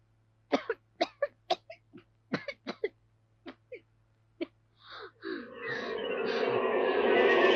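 A run of sharp, separate coughs, roughly a dozen short bursts in an uneven rhythm, close and clear, followed by a rising rush of background noise.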